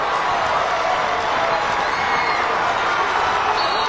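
Loud, dense roar of a college basketball crowd cheering and clapping inside Hagen Arena during St. Bonaventure vs. St. Joe's, a steady wash of noise with no pauses throughout.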